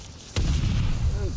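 A rocket launcher blast in the Call of Duty game goes off with one sharp, loud boom. Its low rumble then hangs on for about a second.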